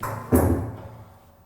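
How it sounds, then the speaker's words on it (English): A single heavy door slam thuds close by, with a short rattle and a fading echo afterward. "they slammed the door in his face"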